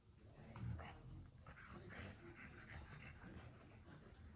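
A dog pants and huffs in quick rhythmic breaths, close and fairly quiet, with a brief louder low thump near the start.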